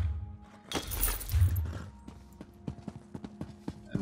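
Horse hooves clip-clop in The Elder Scrolls Online game, a burst of clatter and rustle followed by a sharp rhythmic run of hoofbeats, close and clear with no talk over them.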